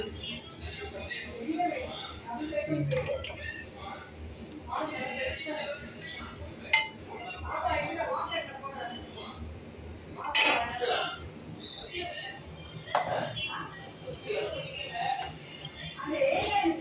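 Metal utensils clink against a small bowl as squid curry is served, with intermittent light taps and scrapes under a person speaking Tamil.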